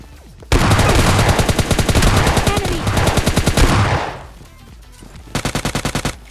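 SK-12 shotgun fire in PUBG Lite comes as a loud, rapid string of close shots for about three and a half seconds, a brief lull, then a shorter burst of evenly spaced blasts near the end.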